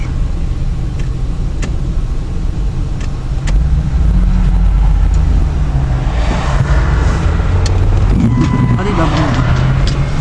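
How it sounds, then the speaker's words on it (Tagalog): Road traffic in Alaska, with cars passing close by in a loud, continuous rumble that swells midway. A person talks over the noise. "Hala, traffic."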